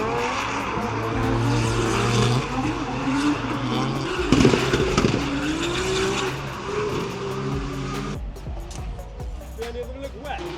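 A Volvo drift car runs on a competition track, its engine droning steadily with a sharp burst of revving and tire noise midway, then fading toward the end.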